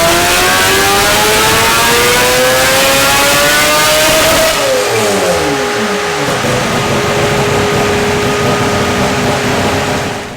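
A Toyota Supra tuned to sound like a race car revs hard on a dyno, its loud, high engine note climbing steadily before the throttle lifts and the pitch falls away into a long fading drone.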